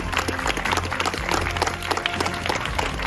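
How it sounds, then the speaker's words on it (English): Audience applause at a community movie night, a dense patter of many hands clapping at moderate volume, steady for a few seconds with faint voices mixed in. "Let's give a clap for everything that they do for the community."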